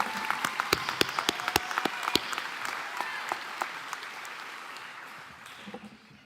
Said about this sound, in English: Kirschman another round of applause